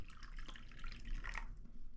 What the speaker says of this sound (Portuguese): Vamos colocar um pouco mais de água.